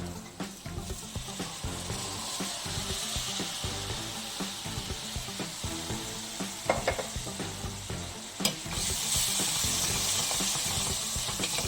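Chopped tomatoes frying with spices in a pan for palak paneer give a continuous sizzle under occasional scraping stir strokes, then a sharp clack and a louder, brighter hiss as the frying intensifies near the end.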